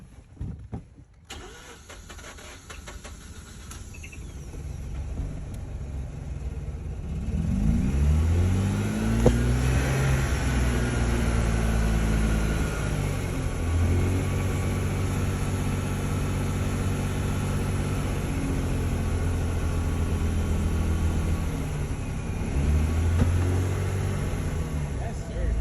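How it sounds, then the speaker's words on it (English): A Mazda RX-8 engine, just revived, runs close by at idle with a steady low rumble that rises and falls slightly, continuous and loud throughout. "We turned the fucking RX-8 on and it's idling."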